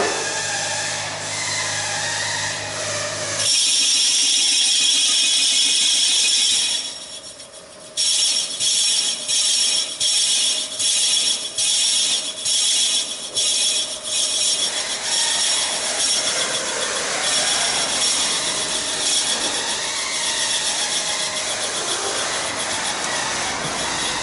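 Cutting work during engine cylinder sleeving at a rebuild shop: a steady broadband rasping grind runs throughout, briefly pausing, then resuming in rapid repeated strokes before settling into continuous cutting noise, close and loud.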